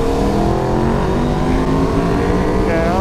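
2020 Honda Fireblade SP and Aprilia RSV4 1100 superbikes in a third-gear roll-on from 40 mph, engines screaming loud and close with rising whining tones layered over heavy wind rush.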